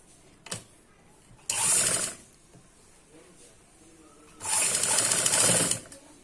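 A sewing machine stitches a folded-in neckline in two loud, steady whirring runs of about half a second and over a second, with a brief click before and quiet handling pauses between.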